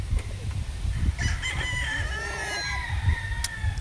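An LDT grey gamefowl rooster crows loud and close on a farm, one long drawn-out cock-a-doodle-doo over a steady low hum and background noise.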